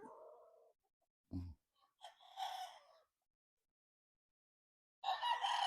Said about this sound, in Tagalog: Ito ay uh, Boston Roundhead by White Tilso